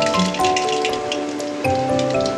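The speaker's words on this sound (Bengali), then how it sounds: "কালো জিরে ফোড়ন দিচ্ছি," Black cumin seeds sizzle and crackle in hot mustard oil in a kadai, a loud, close, continuous fizzing spatter that sounds like steady rain, with a faint tonal background.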